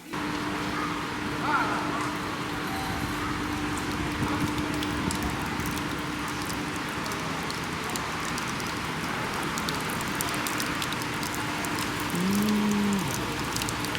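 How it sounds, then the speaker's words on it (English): Steady rain falls over a sleepy hot-spring town in Japan, a continuous wash of drops on surfaces that runs throughout, with a low drawn-out animal-like call rising briefly near the end. "It is a tad little rainy, which isn't the best weather for traveling"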